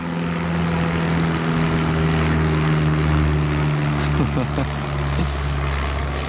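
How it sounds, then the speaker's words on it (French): An airplane passes close by in the open air at sunset, its engine a steady, loud droning hum with strong low tones that holds evenly throughout, with no talking. "Regardez maintenant l'avion qui passe juste devant nous."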